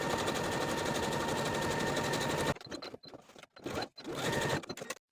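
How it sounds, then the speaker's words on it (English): A sewing machine edge-stitches the folded edges of a vest facing in a long, loud, continuous whir, then shorter stop-start bursts close by. "take both of these pieces to the sewing machine and edge stitch those folded edges along the inner serged edge"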